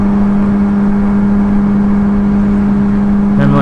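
A 2006 Kawasaki Ninja ZX6R 636 with Two Brothers dual exhaust cans drones with a steady, deep rumble throughout, loud and close, with a slight rise in revs right at the end.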